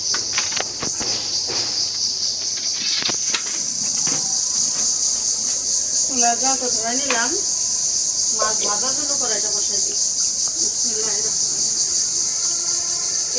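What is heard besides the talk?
crickets chirping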